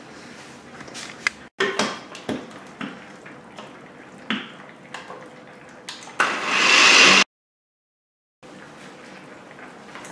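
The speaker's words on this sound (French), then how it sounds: "Ensuite, je mixe tout ça." Blender mixing pear purée with a splash of syrup, a few clunks and short pulses building into a loud whirring burst that cuts off abruptly, then a brief silence.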